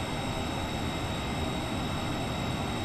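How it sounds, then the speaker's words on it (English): Airplane engine noise fills the space as a constant, even broadband roar like a vacuum cleaner, steady and unbroken throughout, with no voices. "Plane sounds like a vacuum."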